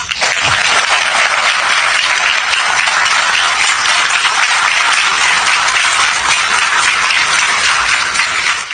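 A large audience applauds in a dense, sustained wash of clapping that stays loud and steady from start to finish, with no pauses.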